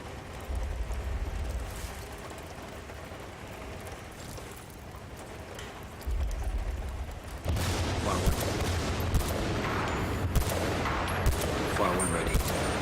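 Sniper rifle shots from Bad Company 2 crack across a noisy battlefield, a few sharp reports standing out over a dense rumbling background that grows louder midway, with faint speech underneath.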